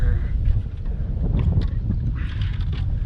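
Wind gusting across a lake, picked up on a GoPro microphone as a loud, continuous low rumble and buffeting, with a voice talking through part of it.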